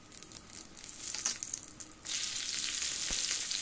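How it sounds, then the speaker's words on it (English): Cumin seeds fry in hot oil in a pan on the stove, a crackling sizzle that swells sharply partway through into a loud, steady hiss, with a faint clink of stirring. "First of all, pan on the stove, add 2 spoons oil. Add 1 spoon cumin seeds,"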